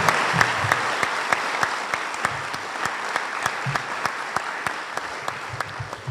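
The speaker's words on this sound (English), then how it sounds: "how about a round of applause for all 6 of our inductees?" Applause at a university athletics Hall of Fame induction ceremony for six inductees, sustained crowd clapping with a few sharp, distinct nearby claps punctuating the steady wash, moderately quiet overall.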